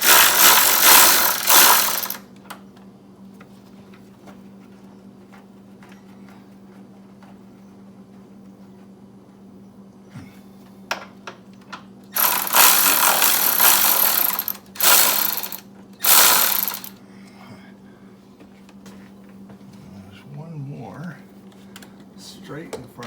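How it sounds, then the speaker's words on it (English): A ratchet clicks rapidly in short bursts while undoing a nut on the silver master cylinder brace of a GR Corolla, close and crisp, separated by quiet stretches with a faint steady hum and some talking. "So we need to undo that nut."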